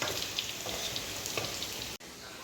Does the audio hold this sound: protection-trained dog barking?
no